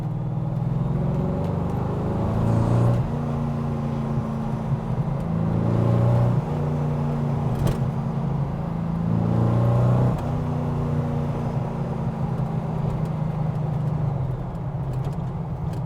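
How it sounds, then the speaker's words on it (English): A Tornado GT40 replica with a 302 V8 revs and pulls hard, its deep engine note rising through the gears in repeated surges, with gear changes between the climbs, heard close and steady. "being a V8, you've got tons of torque, so she's happy revving and driving fast"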